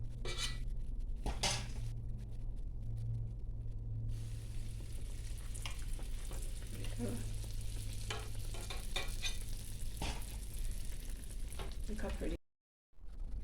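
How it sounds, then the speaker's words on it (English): Koeksisters, South African donuts, frying in hot oil with a steady sizzle and bubbling, under occasional clinks of utensils and pans and someone talking over it. "now that you've fried your donuts or your cook sisters golden brown"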